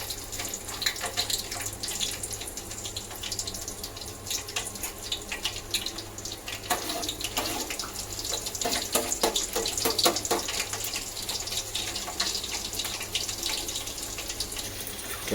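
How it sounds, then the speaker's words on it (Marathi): Garlic hits heated oil as the base for a lobster masala, making a continuous close hiss that thickens midway into denser crackling sizzle. "तर पहिलं टाकते तेल तापलं आहे. टाकते पहिलं लसूण"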